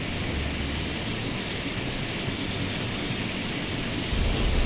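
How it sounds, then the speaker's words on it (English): A helicopter in the naval combat game Sea Power gives a steady, dense rotor and engine roar with no break, loud and close, with a slight swell near the end and no talking. "get a read first with our helicopter."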